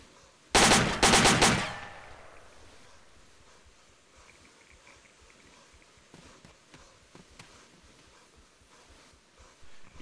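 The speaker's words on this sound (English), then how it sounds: "They're trying to shoot through the wall at me." A loud close burst of rapid automatic gunfire through a wall in a tactical shooter game, about a second long, followed by faint scattered distant shots and low ambient rumble.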